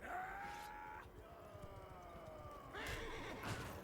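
Horse neighing during tournament combat in the video game Mount & Blade 2 Bannerlord, with two loud whinnies separated by a stretch of dense clattering hooves and battle noise.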